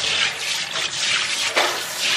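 A tap fitted with a faucet attachment sends out a steady, loud hissing spray of water, with a brief splashy surge partway through, no talking.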